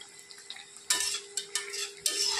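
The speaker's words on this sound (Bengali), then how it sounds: "ঢাকনাটা খুলে নিয়েছি, এখন একটু নাড়াচাড়া করে দেব।" A spoon stirs and scrapes oil-free meat in a pot, just uncovered and full of released juices. Short metallic clinks and scrapes come in a few separate bursts, up close with no talk.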